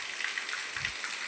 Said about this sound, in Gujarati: આજના બ્લોગમાં હું તમને દેખાડું તો વરસાદ ફૂલે ફૂલ છે